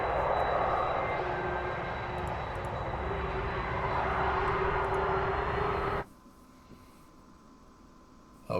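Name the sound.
Virgin Orbit Cosmic Girl aircraft engines taxiing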